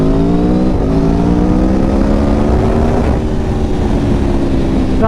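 An Aprilia Tuono V4 1100 Factory motorcycle on its standard exhaust, a loud, close, continuous engine roar with a slowly shifting pitch held steadily throughout, without speech.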